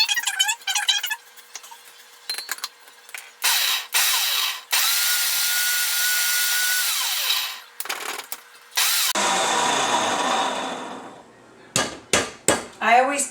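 A blender grinds eggshells in repeated pulses, loud bursts of motor whir and rattling separated by short pauses, ending in a run of quick stop-start spins.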